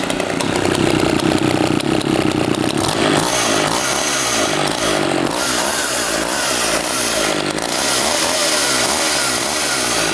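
A freshly repaired dirt bike engine runs loud and close, a raspy buzzing note that settles into a steady, slightly uneven idle with no voices.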